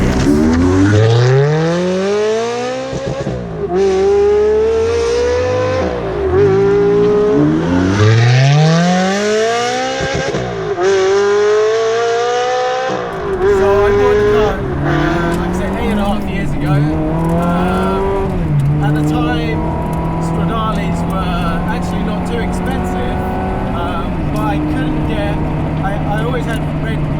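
A Ferrari 360 Challenge Stradale engine revs up and down through repeated gear changes, loud and close from inside the car, with people talking over it.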